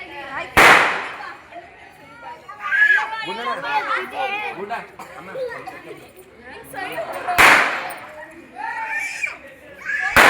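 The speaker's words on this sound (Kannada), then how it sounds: "ಆ ಪಟಾಕಿ ಸೌಂಡಿಗೆ" Two sharp, loud firecracker bangs burst a few seconds apart amid children's excited chatter and shouting close by, at a child's birthday celebration.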